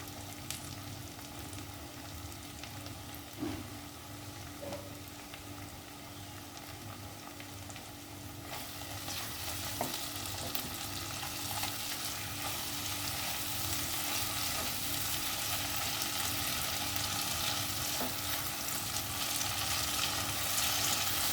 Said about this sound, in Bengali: এইবার দিয়ে দেব টমেটো বাটা।